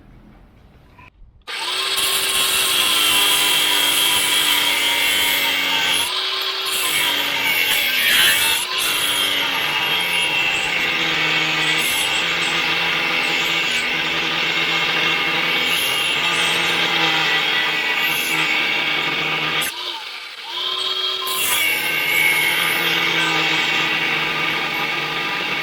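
A power tool cuts steadily during a Hellcat supercharger install, a loud, close, continuous grinding whine broken by a couple of brief pauses.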